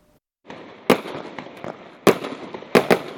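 New Year fireworks and firecrackers go off: a crackling, hissing rumble runs throughout, broken by three sharp, loud bangs.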